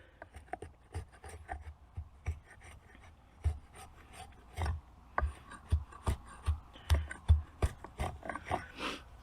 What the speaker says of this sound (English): All I'm doing here is kind of smoothing these up and just kind of truing the sides up just a little bit